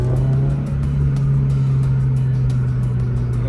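A Subaru BRZ fitted with a GR intake drives along, its steady engine drone and hum running continuously and fairly loud, with a faint airy intake rush on top and no talking.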